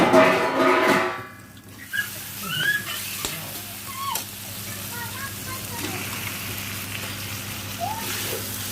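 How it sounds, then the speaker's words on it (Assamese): Ginger-garlic paste fries with spices in a pan, a continuous moderate sizzle running throughout after a louder opening stretch, with faint high chirps in the background. "লগত আদা নহৰু খুন্দাখিনিও দি দিছোঁ। এইখিনি এতিয়া অলপ ভাজি ল'ম।"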